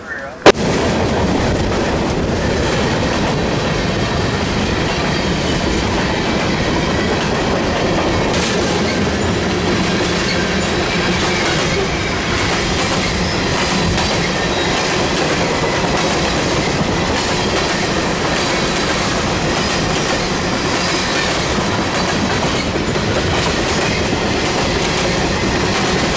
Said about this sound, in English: I don't like being that close to the train